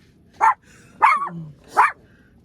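A dog barks inside a small van home, three sharp, close barks spaced about half a second apart, with quiet gaps between them.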